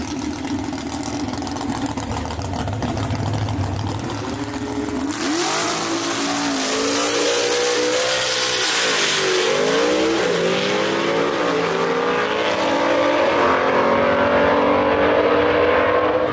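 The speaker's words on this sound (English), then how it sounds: "Good drag race right there." Gasser drag race cars at Brainerd Motorsports Park idle roughly, then launch with a sudden loud roar and climb in pitch through the gears, the engines staying loud and close as they race down the strip.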